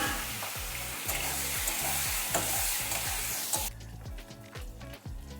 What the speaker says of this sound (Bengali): দিয়ে দিচ্ছি ওই তেলেই বেগুন ভেজে নেব।